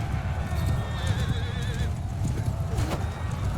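Horses gallop and neigh during a cavalry battle in Mount & Blade II: Bannerlord, with drumming hooves throughout and wavering whinnies rising above the loud, continuous din.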